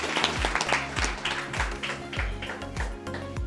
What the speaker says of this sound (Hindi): जोरदार तालियों से स्वागत करें सर का